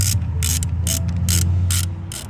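A ratchet clicks in quick bursts, about six rapid ratcheting strokes close up, removing a thermostat housing bolt on a 2005 Buick Rendezvous, with a low mechanical hum underneath.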